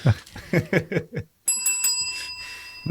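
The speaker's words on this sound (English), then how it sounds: "I've had this bell on my desk" Several short bursts of chuckling give way to a bright, ringing ding from a small desk bell that sustains and slowly fades.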